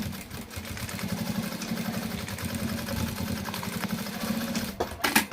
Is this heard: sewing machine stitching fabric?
yes